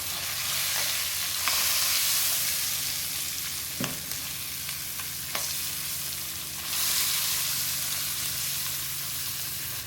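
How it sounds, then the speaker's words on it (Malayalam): Fish frying in a pan for a Kerala-style fish pollichathu, giving a loud, steady sizzle throughout with a few sharp clicks and pops. No one speaks. "ബാക്കി ഇരിക്കുന്ന ആ 2 മീനും ഇതുപോലെ തന്നെ ഇട്ട് ഫ്രൈ ചെയ്തെടുക്കണം"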